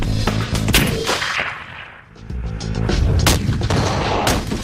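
Gunfire from a 416 long-range sniper rifle: several loud, sharp shots and booms in quick succession, echoing with a brief lull midway before more reports follow.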